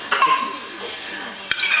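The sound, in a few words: cutting dinner with a knife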